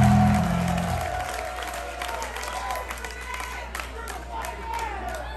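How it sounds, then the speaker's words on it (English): A concert crowd at Manchester Music Hall in Lexington applauds the Doom Crew Incorporated after a show, steady massed clapping and crowd noise after a brief low rumble at the start. "So let's give a round of applause to the Doom Crew Incorporated."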